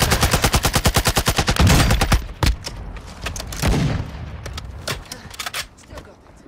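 Rapid automatic gunfire bursts in a tactical shooter video game, a fast rhythmic stream of loud shots followed by scattered single cracks and booms, with a voice calling out briefly.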